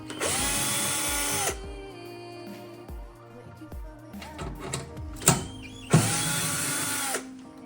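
A power driver fitted with a 10 mm socket runs on aluminium bolts while an anti-roll bar is fitted to a 1999 Lotus Elise S1, giving two loud whirring bursts at the start and end with metallic clicks and handling noises between.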